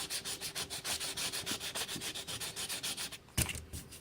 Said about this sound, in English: So I'm biting into it with 180 again. And 180 is the Grit. The type of sandpaper it is.